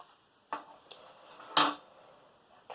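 A spoon clinks and scrapes against a dish in a few quick, light taps, with two sharper metallic knocks among softer scraping in a quiet room.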